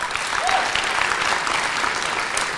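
An audience at a hackathon closing ceremony applauds a team coming on stage, with continuous, full clapping and a brief whoop rising above it.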